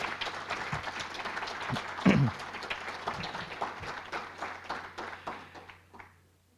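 Audience applause at a NAMI Walks kickoff event honoring organizers, a steady patter of clapping hands that swells briefly then thins out and fades near the end.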